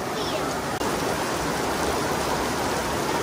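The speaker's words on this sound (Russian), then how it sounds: "еще сильнее ливень, ты видишь какой?" Heavy downpour at a beach complex, a steady dense hiss of rain pouring throughout, loud and close, with a brief dip near the start.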